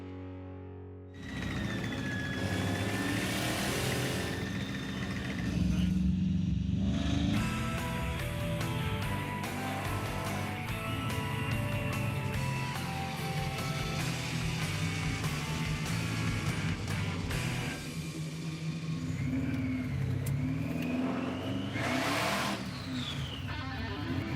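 Supercharged 6-71 blown small block V8 in a 1957 Chevy idling and revving steadily after idle and linkage tuning, a loud continuous rumble with some surges, no talking.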